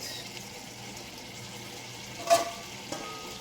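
Saltfish frying in a pan gives a soft, steady sizzle, with a couple of brief clinks and scrapes as it is stirred, quiet and close.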